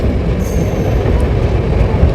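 An Indian Railways train rumbles loudly and steadily nearby, a dense low roar of wheels on track with no break across the short stretch.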